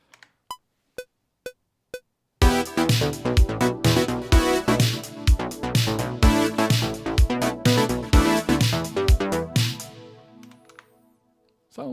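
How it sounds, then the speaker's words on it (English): A lush soundtrack-style synth pad from a PG8X software synth takes over after a few sparse, evenly spaced plucked notes, sustaining full rhythmic chords for about eight seconds before fading into a soft tail. "it sounds like this through a really nice pad"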